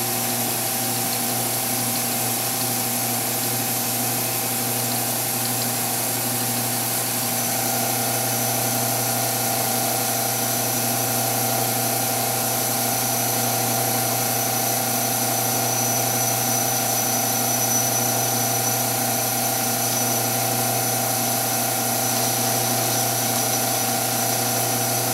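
Metal lathe turning a stock part with coolant running, making a steady continuous machine hum with a constant mechanical whine and faint liquid hiss throughout, close and alone with no talking.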